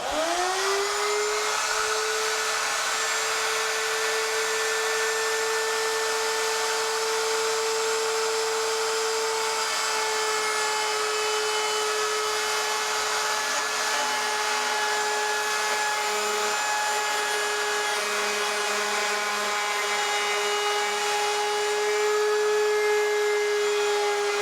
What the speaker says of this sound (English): I've got my template router bit positioned at the correct height with the template on top